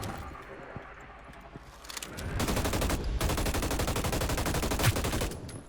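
Rapid bursts of assault rifle fire in the Hyper Scape video game shoot out windows, the shots rattling in a dense sustained stream after a quieter opening, loud and close.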